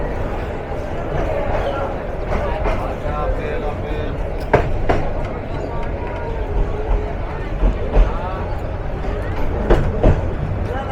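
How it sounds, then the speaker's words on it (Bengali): The Dewanganj commuter train runs along the line with a steady rumbling roll and irregular rattling clacks of the carriages, close and loud beneath ongoing talk. "আমাদের আপ দেওয়ানগঞ্জ কমিউটার আবারও তার যাত্রা শুরু করলো"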